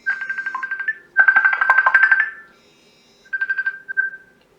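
A telephone rings in three warbling electronic bursts, loud and close, with short gaps between them, before it goes quiet as the call is picked up.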